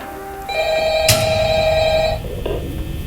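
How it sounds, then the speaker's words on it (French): A telephone rings in the office of a FNAF game on Roblox: a single bright electronic trill with a sharp onset, held for about a second and a half over a low background hum, then cut off. "On peut éteindre le téléphone."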